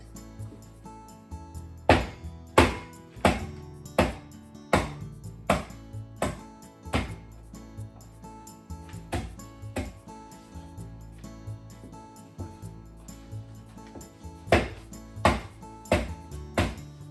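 Cucumbers smashed with an empty bottle on a cutting board, sharp thuds landing in uneven bursts of several blows with short pauses between, close and fairly loud, no talking.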